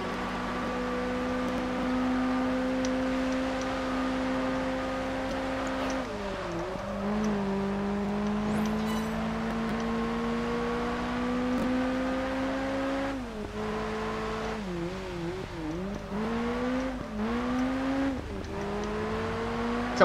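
Ford GT40 Mark II race car engine in the Project Gotham Racing 4 video game, a steady loud drone rising in pitch through each gear, with several quick gear-change dips and fresh climbs, alone without talk.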